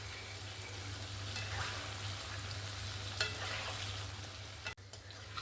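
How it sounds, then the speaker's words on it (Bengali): Palm fruit fritters, taler bora, deep fry in oil with a steady bubbling sizzle, close and continuous, with a brief knock near the end and no talking. "এই রকমভাবে আমি সব বড়াগুলো ভেজে নেব"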